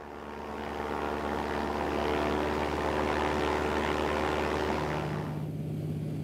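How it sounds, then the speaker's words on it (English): Seaplane propeller engine droning in flight over Alaska, a loud steady buzzing hum that swells in and holds, then drops away near the end. "Seaplanes are both air taxis and cargo planes in Alaska."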